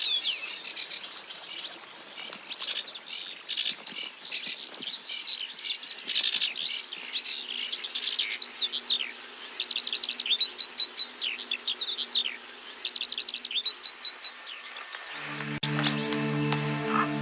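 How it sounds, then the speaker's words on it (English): Sand martins at a steep riverbank colony chatter and twitter continuously while feeding their nestlings, a busy overlapping stream of high chirps, moderately close, ending with a low steady tone. "On a steep riverbank face, the sand martins are hard at work feeding their nestlings."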